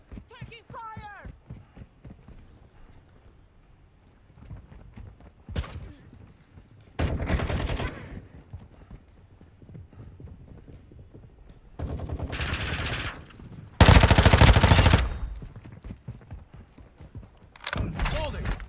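Automatic and single-shot gunfire in a Call of Duty Modern Warfare II match, with several loud bursts and a sustained barrage near the end, separated by quieter footsteps and movement.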